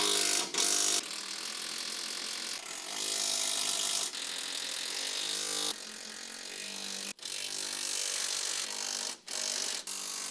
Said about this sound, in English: Your stand-in driver can now leave and you are able to tighten all of the shock hardware.